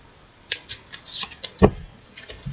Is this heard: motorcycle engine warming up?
no